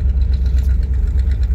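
A truck engine idles at a steady, close, low rumble, with an even throb that continues without a break and no voices over it.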